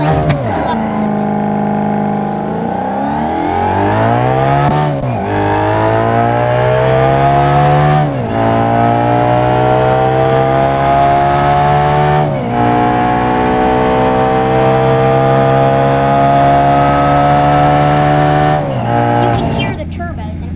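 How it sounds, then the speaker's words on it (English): A turbocharged car engine in BeamNG.drive pulls hard through several gear changes, its loud, steady drone climbing in pitch within each gear and dropping at each shift, with a faint whistle as the turbo spools up. "You can hear the turbos"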